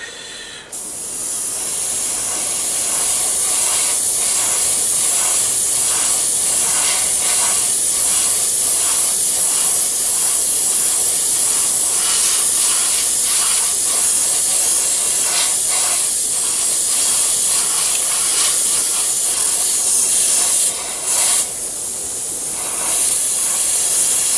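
Steady, loud hiss of spray paint on a figure, continuous for most of the stretch with a brief pause and restart near the end.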